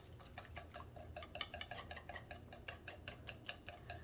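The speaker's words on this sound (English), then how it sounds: "I'm gonna grab my little whisk. We are gonna whisk this together." A small whisk stirs lemon Caesar dressing in a bowl, making quiet, rapid metallic ticking and scraping strokes in a steady rhythm with no voices.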